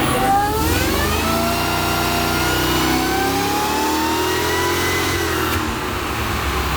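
Supercharged Mercedes E55 AMG wagon engine revving hard on a dyno, a loud continuous rising roar with climbing harmonics that holds near and steady throughout, no talking.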